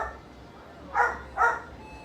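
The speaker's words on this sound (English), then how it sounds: "If you do hear a dog bark in the background" In a dog-friendly chemist shop, a dog gives two short, moderately loud barks about half a second apart, in the background against a quiet room hum.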